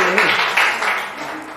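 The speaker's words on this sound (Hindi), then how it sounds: "तालियों में कमी नहीं।" Applause from a gathered group, a steady wash of clapping with a few louder bursts, running under a speaking voice and slowly fading over a brief moment.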